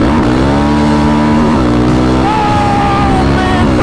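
Raptor 734 ATV engine launching hard in second gear, loud and close, a steady roaring drone with rising harmonics as revs climb, a brief dip near the middle and pitch swells toward the end, with no talking.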